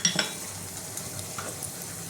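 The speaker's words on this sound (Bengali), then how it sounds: "সর্ষে দিয়ে দিলাম।" Mustard seeds hit about a spoonful of hot ghee in a pan and crackle, with a brief scrape and clink of utensils early on, then a faint steady sizzle continuing alone.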